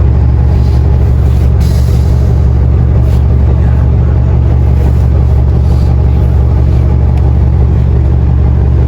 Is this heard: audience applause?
no